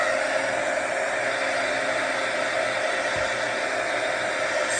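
A hair dryer blows steadily on a chalk transfer, a constant close whooshing roar with no talking.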